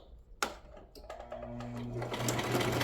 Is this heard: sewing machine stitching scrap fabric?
yes